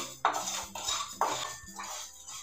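A spoon scrapes and clinks against a pan while sugar is stirred over a low flame, in three or four distinct rhythmic strokes at close range with no talk.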